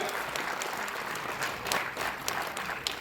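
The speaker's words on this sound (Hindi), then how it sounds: "जोरदार तालियों से स्वागत कीजिए, अभिनंदन कीजिए मैडम का।" A crowd at a Bihar Gramin Bank outreach programme claps steadily and enthusiastically to welcome a guest, a dense, continuous patter of applause filling the whole stretch.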